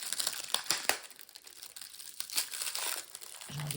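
Packaging is crinkled and torn while unwrapping a small ceramic pumpkin decoration, a close, quiet run of sharp crackles and rustles in irregular bursts, with no talking.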